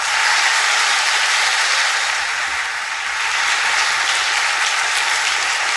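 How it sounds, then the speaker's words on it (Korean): A church congregation at an evangelism event gives loud, continuous applause to welcome a guest speaker. The clapping is thick and steady for nearly six seconds, dipping slightly midway, with no speech over it. "우리 나오실 때 큰 박수로 환영하겠습니다"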